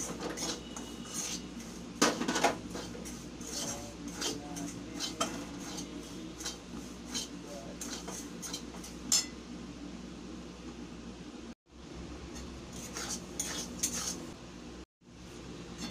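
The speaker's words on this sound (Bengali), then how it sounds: "সুজিটাকে আমি 3 মিনিট ভেজে নেব" Semolina dry-roasting in an empty hot wok, heard as steady scraping and clinking of a spatula against the metal with light ticking and rattling, close and moderately loud, with no voices.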